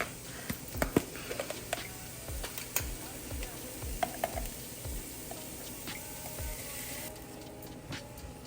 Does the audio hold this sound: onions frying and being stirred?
yes